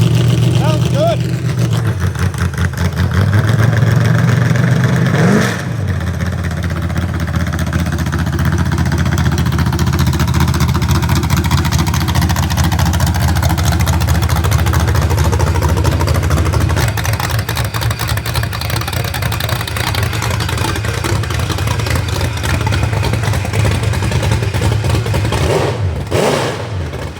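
A 1970 Corvette with an LT1 V8 runs steadily for a long stretch, a thick low rumble with a brief blip of revs early on, while people talk over it.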